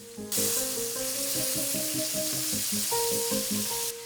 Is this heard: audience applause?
no